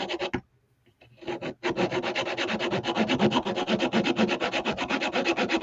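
Small piece of wood being cut by hand for the upper railing of a Lady Washington model ship, heard as a close, steady run of quick back-and-forth rasping strokes after a couple of brief pauses.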